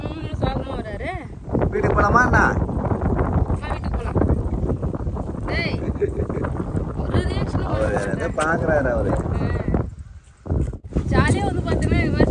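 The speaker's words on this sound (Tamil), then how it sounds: "இன்னுமே காத்து நல்லா ஜில்லு ஜில்லுன்னு அடிச்சுட்டு இருக்கு" Cool wind blowing steadily across a beach at dusk, rushing and buffeting the microphone, with people talking loudly over it for most of the stretch.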